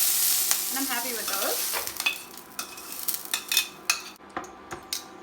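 Vegetables stir-frying in a pan over medium-high heat for a beef and vegetable noodle stir fry, with a steady sizzle and repeated utensil scrapes and clinks, and a brief spoken remark.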